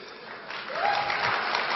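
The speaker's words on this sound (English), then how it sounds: "Please give a round of applause to our minister." An audience at an IT industry conference in Las Vegas breaks into applause for a minister, the clapping swelling after a quiet moment and holding steady and fairly close.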